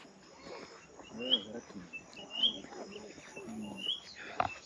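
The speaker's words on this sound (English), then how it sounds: "the chirping of the birds" Birds chirp outdoors in Africa, with short high tweets repeating every second or so over low background murmur and faint voices.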